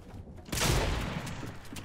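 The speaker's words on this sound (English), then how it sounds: "So he's using an SMG." SMG fire in a video game, a short dense burst that starts abruptly and rattles on briefly at moderate loudness.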